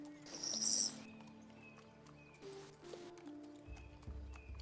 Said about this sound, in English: Get some good horse sounds